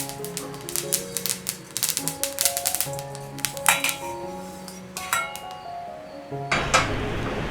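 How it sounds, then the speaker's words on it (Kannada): Sesame seeds roasting in a dry pan, a rapid irregular crackle of popping seeds with clinks against the metal, close and fairly loud, no talk. "ಇದನ್ನು ಹಾಕ್ಕೊಂಡು ಇದು ಚಟಪಟ ಅನ್ನುವರೆಗೂ ಹುರಿದುಕೊಂಡು"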